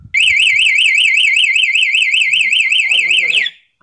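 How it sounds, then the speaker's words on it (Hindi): A loud, warbling electronic anti-theft alarm from an Autofy unit fitted on a motorbike sounds continuously for about three seconds, then stops abruptly, leaving a faint mechanical rattle. "और अलार्म बजाने के लिए आता हूँ।"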